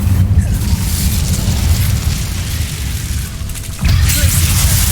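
An Incendio fire spell cast in Hogwarts Legacy, a loud, dense rumbling whoosh of flame that dips briefly and then surges again, filling the whole moment without speech.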